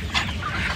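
Egg-laying desi hens cluck in short bursts at a busy poultry market in Uluberia, close and fairly loud against a dense background hum.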